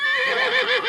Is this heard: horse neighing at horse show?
yes